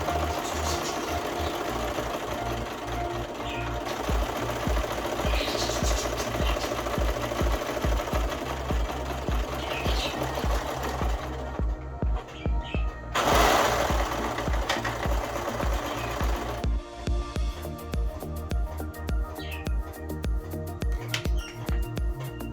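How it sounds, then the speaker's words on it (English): A Brother 1034D serger running at slow speed makes a continuous rapid mechanical chatter with a rhythmic whir, loud and close, briefly surging and shifting tone midway before settling into steady stitching. "I'm now going to run my machine on a slow speed and let the knot travel through"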